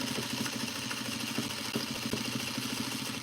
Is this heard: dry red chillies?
no